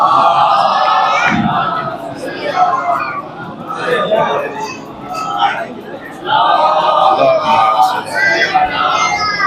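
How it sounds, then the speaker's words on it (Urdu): A crowd at a Shia Jashn-e-Ghadeer celebration loudly chanting salawat in repeated surging waves of massed voices, with shouting and babble between the peaks. "بابا سے بلند نعرے صلوات پیش کریں."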